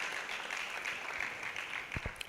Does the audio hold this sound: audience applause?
yes